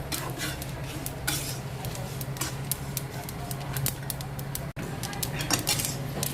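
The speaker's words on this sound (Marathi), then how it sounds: "तडतड तडतड आवाज यायला लागलाय" Dried Sankeshwari chillies and coriander seeds crackle as they roast in a pan for stuffed bitter gourd, a dense run of sharp close ticks and pops over a steady low hum, with one brief dropout near the end.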